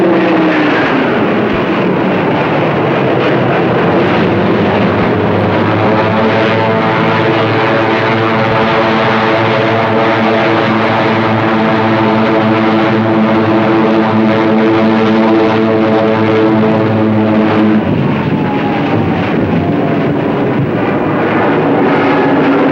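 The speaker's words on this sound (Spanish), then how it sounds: "5 escuadrones de Hurricanes y Spitfires despegaron de las pistas y se lanzaron a los cielos" Hurricane and Spitfire propeller fighters taking off during the Battle of Britain, 1940: a loud, steady roar of piston engines with a droning pitch that shifts as the planes pass close, filling the whole stretch with no talk.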